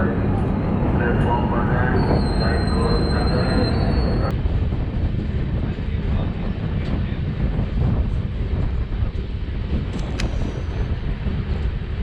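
A passenger train draws near at a railway station in India, a steady broadband rumble with wind buffeting and a brief high whistle-like tone, while someone speaks over it.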